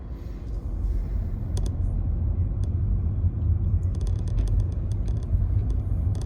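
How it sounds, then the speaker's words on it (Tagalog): Heavy road traffic on a highway toward Kansai Airport, a steady low rumble of many vehicles heard from inside a moving car, with scattered clicks and rattles over the drone. "Ang daming sasakyan, no?"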